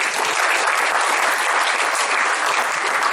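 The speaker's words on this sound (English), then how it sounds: "You give a quick clap for him." Dense, steady applause from a crowd, a continuous wash of clapping that stays loud from start to finish.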